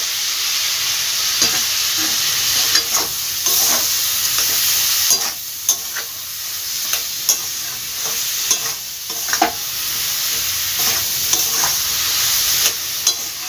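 A spice paste being sautéed with cauliflower stems after a little water goes in, stirred and scraped in a hot pan, with a continuous hissing sizzle and regular stirring knocks, close by and without speech.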